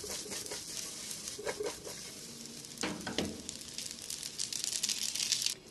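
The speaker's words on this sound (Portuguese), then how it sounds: "Uma forma legal de você misturar o macarrão" Pasta being stirred and tossed with pork ribs and garlic in a hot pan, a steady close sizzle with scraping and wet clattering strokes throughout, no talking.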